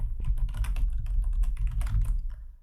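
Rapid keyboard typing as JavaScript code is entered on a computer, a dense run of close, crisp key clicks with no speech over them.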